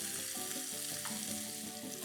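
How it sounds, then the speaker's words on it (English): Steady, bright sizzle of butter melting in a hot pan, continuous and close, with soft crackles and no voices. "I've got my butter in and I'm hearing this lovely sizzle."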